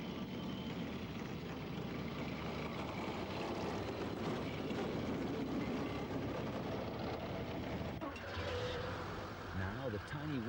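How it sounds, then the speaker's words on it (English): A tiny diesel works locomotive on the Furka Pass railway gives a steady, broadband engine drone that fills the whole stretch, with a shift in tone near the end. "The sound of a rail-borne engine once again shatters the peace."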